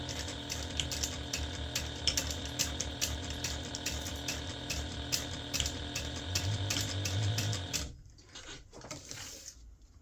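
A sewing machine stitches the 5/8-inch bottom seam of a medium fabric gift bag, giving a close, steady, rapid mechanical clatter for about eight seconds before it stops abruptly, with no talking.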